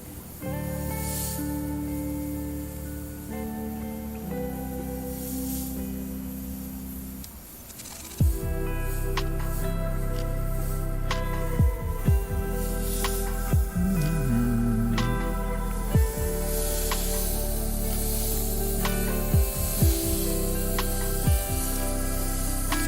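An airbrush hisses steadily as it sprays paint onto acoustic panels in a graffiti art session, a soft continuous spray with short pauses between passes.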